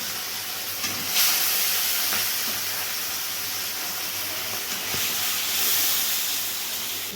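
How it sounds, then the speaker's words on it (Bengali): Rohu fish pieces, rubbed with salt and turmeric, frying in hot oil, giving a steady loud hiss and sizzle close by, with a couple of brief sharper bursts of spattering. "প্রথমে সব মাছগুলোকে ভালো করে ভেজে নিতে হচ্ছে"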